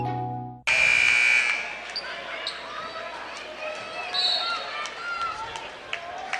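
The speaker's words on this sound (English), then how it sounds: "And with the buzzer" A basketball arena buzzer ending a timeout at a boys high school state championship game blares loudly and steadily, followed by crowd noise, sneaker squeaks and bouncing balls, with a commentator talking over it.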